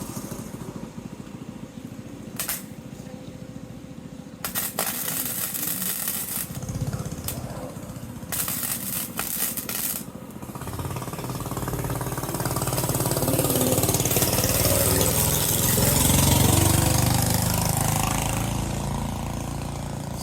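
Someone welds on a trailer. Short bursts of crackling arc noise start and stop over the first half, then a louder engine-like rumble builds and swells toward the end.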